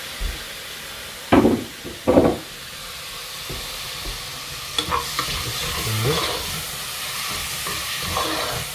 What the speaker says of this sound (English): And then as you're frying that, because the spices, you just don't want it to burn.